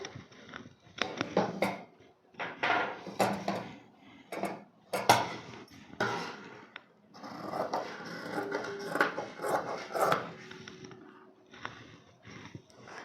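Scissors cut through blouse fabric on a table in a run of quiet crisp snips and rustling fabric, spaced in irregular bursts with short silences.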